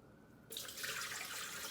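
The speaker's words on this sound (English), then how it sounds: "Pour it into the blender." A frozen smoothie shake is poured into a blender; after a quiet half second a continuous close, splashy pouring stream begins and keeps running steadily to the end.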